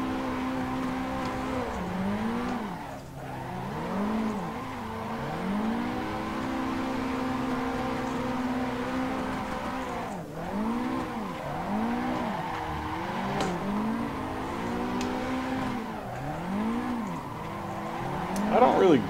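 A sim drift car on the Ebisu touge course in Assetto Corsa revs up and down in repeated swooping surges, engine pitch rising and falling steadily across the whole stretch with tire noise underneath, loud and continuous with no voice.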